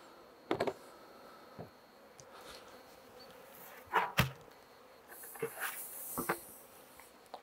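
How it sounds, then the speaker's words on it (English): Honey bees buzz faintly around a hive being split into an artificial swarm as they are shaken off the top, with a few sharp knocks and taps of hive parts over a low, steady background. "I'm just going to shake the bees off the top so I don't crush any bees"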